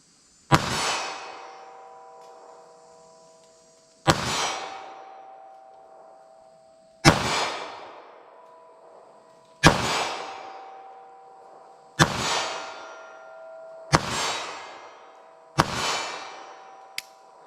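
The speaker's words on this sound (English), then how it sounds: "380 LCP, 25 yards. I'm just gonna hold center and kind of fire it kind of slow" .380 ACP LCP pistol fired slowly at a target 25 yards away on a range: seven sharp, loud shots spaced a couple of seconds apart, each ringing out with a metallic clang and fading tail.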